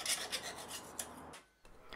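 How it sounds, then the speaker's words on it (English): A metal file rasps repeatedly across the rough edges of a brass plaque, close and clear, in quick back-and-forth strokes with a brief pause near the end. "give it a file down to take any rough edges off"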